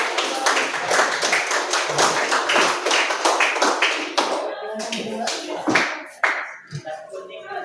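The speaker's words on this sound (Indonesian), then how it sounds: "Beri tepuk tangan untuk kelompok 1." A class claps for a student presentation group in an Indonesian classroom, with a dense burst of hand claps that thins into scattered, uneven claps over the last few seconds amid background voices.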